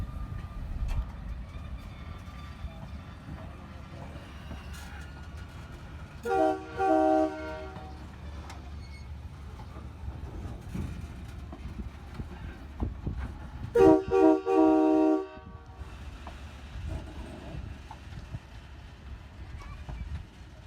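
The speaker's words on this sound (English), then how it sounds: "the slow run-by that you just observed was the Aspen Crossing tourist train pulling out of its station" A tourist train on the Aspen Crossing Railway rumbles along slowly at low volume pulling out of its station, with two long, loud horn blasts spaced apart, and a voice talks over the moving train.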